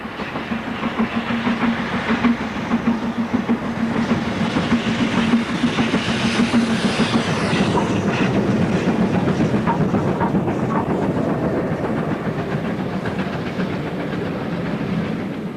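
A double-headed GWR steam train, Clun Castle and Hagley Hall on a Newport to Hereford run, thunders past close by, rhythmic chuffing and wheels clattering over rail joints, with hissing steam, swelling then slowly receding.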